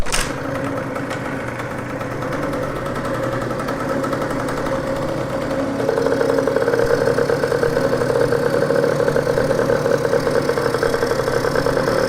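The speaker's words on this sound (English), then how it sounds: "So we're gonna start the bike, and all I'm gonna do is open up the air filter." A Peugeot Fox moped's small engine idles steadily and close by, a buzzy, even running note that grows slightly louder and rougher about halfway through as the air filter is opened, with no talk over it.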